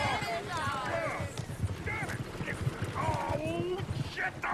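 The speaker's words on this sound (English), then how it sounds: "Oh, shit, the horses!" Horses gallop with steady clip-clopping hooves in the Red Dead Redemption 2 video game, the rapid rhythmic beats running throughout at moderate loudness beneath voices talking and calling out.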